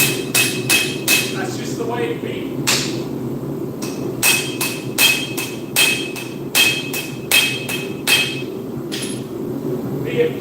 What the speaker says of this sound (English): you'll find enjoyment in weird things like hammering hot steel